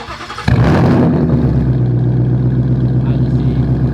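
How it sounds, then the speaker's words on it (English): A straight-piped 2019 Mustang GT starts with a sudden loud cranking catch and roar, then settles into a deep, steady, aggressive idle rumble close by. "let's go ahead and start this up for you"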